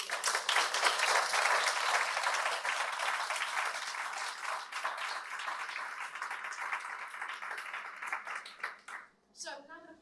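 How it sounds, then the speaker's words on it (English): An audience gives students a round of applause after an EYP talk practice, dense clapping that holds steady and thins out near the end, fairly faint and a little distant, with a voice rising briefly at the close. "Can you give them a massive round of applause, please?"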